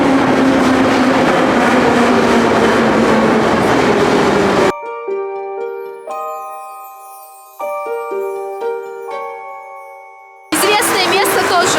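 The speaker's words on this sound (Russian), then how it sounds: "Вот здесь каждые 10 минут проезжает трамвай." A city tram passes outside an apartment window, a loud broad rumble for about five seconds, then a quieter stretch of steady ringing, whining tones before the rumbling noise surges back.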